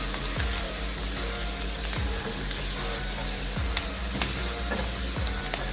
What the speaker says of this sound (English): We'll fry this for about 2 minutes. This will also intensify the flavors of the suya with the onions.